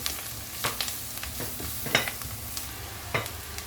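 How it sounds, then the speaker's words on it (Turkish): Utensil scraping and stirring carrots into sizzling caramelized onions in a pan, with a steady frying hiss and a few sharper clanks spread across the clip. "Şimdi havuçlarımızı atıp bir iki tur karıştıracağız."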